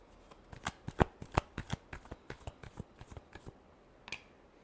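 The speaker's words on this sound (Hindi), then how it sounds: "last shuffle" A deck of tarot cards is shuffled by hand, a quick series of sharp crisp riffles and taps close up, about a dozen distinct flicks with a final snap after a short gap.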